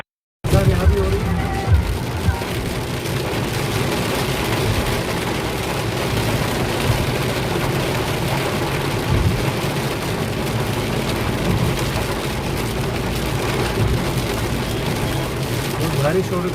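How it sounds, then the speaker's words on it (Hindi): Heavy rain drums steadily on a car driving the NH-44 highway from Kashmir to Jammu, a dense, constant hiss mixed with low engine and road rumble inside the cabin. "बहुत बारिश हो रही है, बहुत भारी बारिश हो रही है।"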